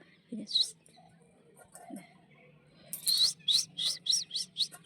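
Small birds feeding on grapes close by give a quick run of high, sharp chirps, preceded by a few scattered calls and faint low voices in the background.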